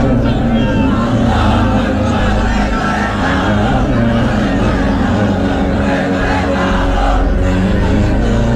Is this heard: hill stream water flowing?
no